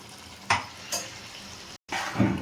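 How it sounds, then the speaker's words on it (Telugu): Coconut paste stirred in oil in a pan for a chicken liver mango curry, a soft sizzle broken by a few scraping spoon strokes and light clinks against the pan, close and without voices. "కొబ్బరి పేస్ట్ని బాగా కలుపుకోవాలి"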